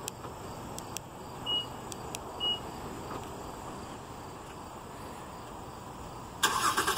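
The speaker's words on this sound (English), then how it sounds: "We integrated the remote start directly into the factory key fob, which you could activate by pressing the lock button 3 times." A 2015 Honda Odyssey starting by remote start: a steady car idle hum runs throughout, a few short electronic beeps sound early, and a louder engine catch cuts in near the end.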